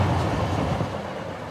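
A train rolls along the rails with a dense, steady rumble and rushing noise, loud and close, with no voices over it.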